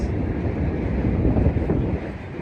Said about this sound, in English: As you can see and as you can hear, subway trains pass across this bridge.